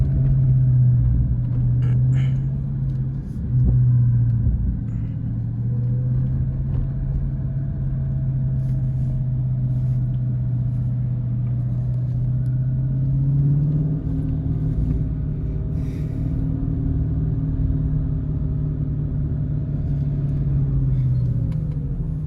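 A 490-horsepower Dodge Charger Scat Pack rumbles steadily from inside the cabin while driving in traffic, its deep engine drone shifting pitch as it cruises and eases onto a straight.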